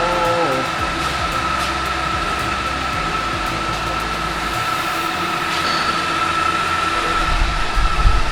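Steady loud factory machinery drone with a constant whine and rumble, filling the space continuously without pause; no talking.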